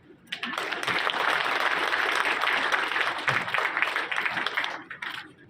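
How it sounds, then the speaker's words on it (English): Audience at an international conference in Telangana claps in welcome, a broad sustained burst of applause that swells in, holds strongly for several seconds, then tapers off toward the end. "I think you can reciprocate by clapping"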